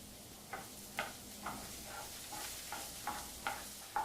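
Onions caramelizing in a hot pan give off a soft, steady sizzle, broken by a spoon scraping through them in regular strokes about every half second.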